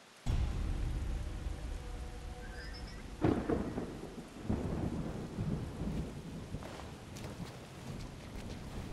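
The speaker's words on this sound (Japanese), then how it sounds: "雨 降っております" A thunderstorm in the video game SIFU brings a steady wash of rain with low rumbling thunder and a few sharper cracks, loud and close throughout.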